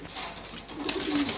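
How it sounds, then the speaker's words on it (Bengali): Pet pigeons, a male and female, give a brief low cooing close by, faint and soft over a quiet background. "ওই যে এটা মাদি কবুতর, এটা নর কবুতর।"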